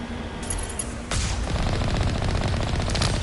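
Turrets in the Mass Effect game open fire with a rapid, dense burst of automatic shots that keeps going after a sharp onset, loud and near, with no talking.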